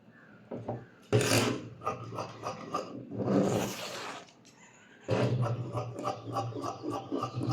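Green fabric for baby dress sleeves is cut, giving close, rasping bursts of blade-on-cloth sound that come in three longer stretches with short pauses between them. No one speaks.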